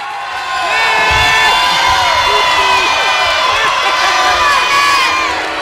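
A wrestling arena crowd roars and shouts together in a loud, sustained, dense wall of voices with whistling and jeering cries.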